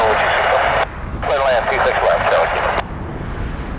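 An Embraer E175 airliner takes off at Vancouver airport with a loud, steady jet roar throughout, while a voice talks over the middle stretch.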